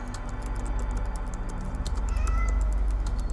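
A cat meows clearly in a film scene, a couple of short, close calls over a steady low background hum with faint ticking, no speech.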